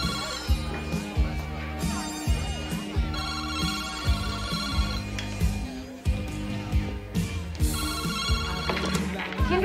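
A telephone rings in an office building, its repeated bell bursts sounding over a steady bed of music with a strong rhythmic low end.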